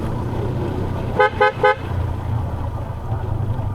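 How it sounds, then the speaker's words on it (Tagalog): Three short car horn toots in quick succession, close and loud, sounded while driving on a rough road, over a steady rumble of engine and road noise with no talking. "Kaya natin bumusina kasi baka may biglang sumalubong"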